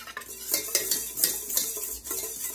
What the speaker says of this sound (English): Gonna give that a quick whisk.